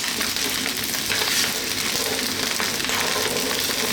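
An egg frying on very high heat in a pan for chicken fried rice gives a loud, steady hiss and crackle with no break, heard close and with no voices over it.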